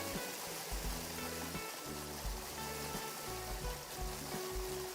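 A glitched video game loops a steady watery rush like a flowing stream, continuous and fairly loud, with low tonal game music running underneath.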